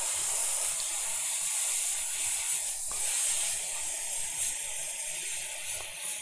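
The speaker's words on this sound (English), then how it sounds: "Doing a little bit of airbrushing here." Airbrush spraying paint while painting horses, a steady close hiss of air and paint running continuously without talk.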